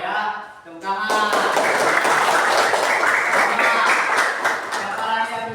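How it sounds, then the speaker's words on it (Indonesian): In a school coding lesson, a class breaks into lively applause after a brief voice at the start. Dense, steady clapping from many hands continues to the end. "tepuk tangan."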